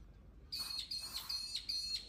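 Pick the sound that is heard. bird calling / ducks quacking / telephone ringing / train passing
bird calling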